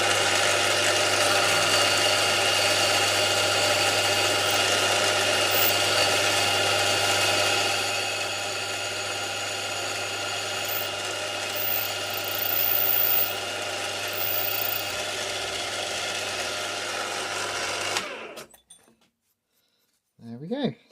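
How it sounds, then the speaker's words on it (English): A 3mm drill bit bores into a small metal part for a Modelworks Britannia live steam model, a steady whirring machine hum running continuously for most of the clip before stopping abruptly, followed by a brief clatter. "3mm drill."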